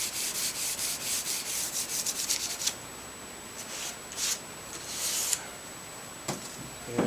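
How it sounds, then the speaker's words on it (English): Light hand sanding across a wooden bookcase cabinet, a steady soft rubbing hiss with brief louder strokes scattered through, close and alone with no talk. "I want to lightly sand this, just to get any fuzzies off"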